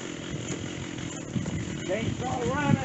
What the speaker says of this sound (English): Chainsaw running.